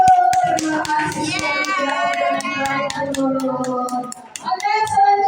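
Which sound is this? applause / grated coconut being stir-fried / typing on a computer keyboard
applause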